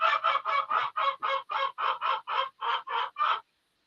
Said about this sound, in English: That rooster said, "What you doing?